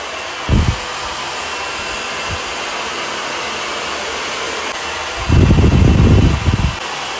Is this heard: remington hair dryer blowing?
yes